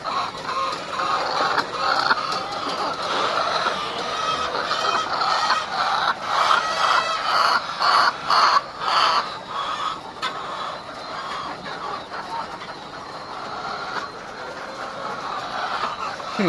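Many chickens cluck and chatter together in a steady, busy din, with occasional louder squawks standing out from the crowded flock.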